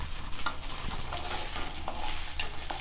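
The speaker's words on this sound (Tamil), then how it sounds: "இது நல்லா ஒரு தடவை கிண்டி விட்டுட்டு" Rice is stirred with salt in a pan on the stove, a steady low scraping and soft sizzle with a few light spoon taps against the pan.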